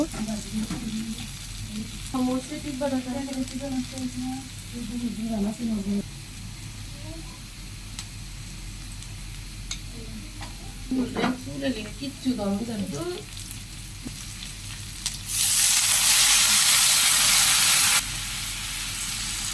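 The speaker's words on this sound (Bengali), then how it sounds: "রসুন বাটা, জিরা বাটা, লবণ, হলুদের গুঁড়া, মরিচের গুঁড়া, কাঁচামরিচ দিয়ে একটু পানি দিয়ে মশলাটা ভালোভাবে কষিয়ে নিব" Masala of garlic paste, cumin paste, salt, turmeric, chili powder and green chilies sizzles and hisses steadily as it fries with a little water, while a voice talks over it and a burst of louder steam hiss comes near the end.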